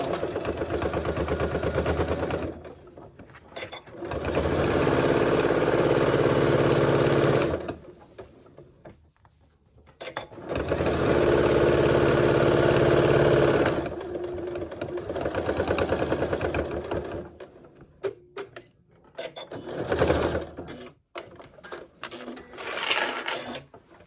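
A sewing machine stitches a fabric origami bag in green thread, running in several long loud bursts separated by short pauses, with small clicks and taps between runs and no talking.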